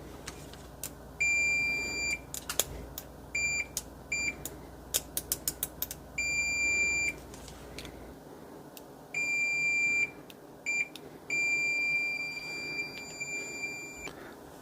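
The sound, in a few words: continuity beeper of AstroAI AM33D multimeter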